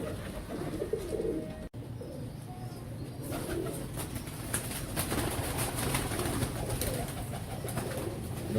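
Royal Teddy Nayab pigeons cooing softly in repeated low, throaty coos, with a faint background hum and an occasional brief knock.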